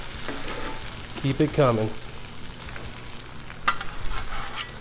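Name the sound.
eggs frying on a Blackstone griddle, flipped with spatula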